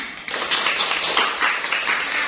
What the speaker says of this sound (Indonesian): Tepuk tangan untuk Zevanya.